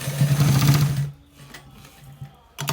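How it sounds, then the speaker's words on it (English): A sewing machine runs fast and loud while stitching a V-neck on a garment, then stops abruptly about one second in, leaving quiet faint mechanical ticks before a brief burst of noise at the end. "So guys, this is how we stitch it."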